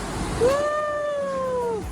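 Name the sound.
cat meowing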